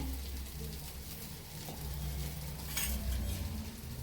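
A small pour of dosa batter sizzles on a hot dosa griddle, a soft, steady hiss with a low background hum and a faint scrape near the end.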